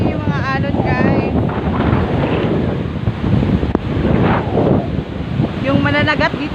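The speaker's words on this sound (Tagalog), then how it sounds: "ayan na yung mga alon guys" Strong coastal wind buffets the microphone over crashing ocean waves by a seaside home, a steady roar filling the whole stretch with wind noise dominant, while people's voices come and go faintly underneath.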